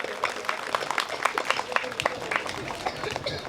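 An audience claps steadily at a school function after a children's song, with dense, fairly close applause that keeps going throughout, without talk on top.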